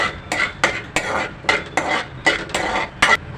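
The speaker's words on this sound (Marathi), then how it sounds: "तुपामध्ये मी काजू घालत आहे बदाम घालत आहे हे दोन मिनटं परतून घेते" Cashews and almonds are stirred while roasting in ghee in a pan, heard as a regular series of close scraping strokes about three per second over a soft sizzle.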